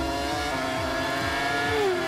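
A youth-formula race car in the animated series The Drakers revs hard, its engine whine climbing and shifting in pitch through repeated surges, loud and close, with no talking.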